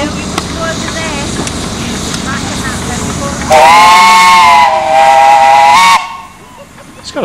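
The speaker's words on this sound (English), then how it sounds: "It's got a lovely whistle on it." A steam locomotive on the Cleethorpes Coast Light Railway, a miniature railway, sounds a loud, sustained whistle for about two and a half seconds, cutting sharply over a rumbling, hissing engine and background noise.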